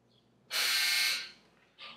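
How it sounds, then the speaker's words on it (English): Clothes dryer buzzer sounding in a home, one loud harsh buzz lasting under a second, then a shorter, fainter second burst after a brief gap, in a quiet room. "that's my dryer, not my timer, you guys"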